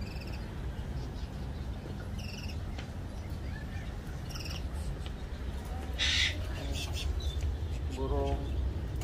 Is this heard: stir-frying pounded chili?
no